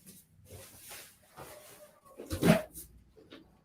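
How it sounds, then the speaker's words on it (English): A dog barks and whimpers in a few short bursts, the loudest yelp near the end, fairly close in a quiet room. "No barking, quiet."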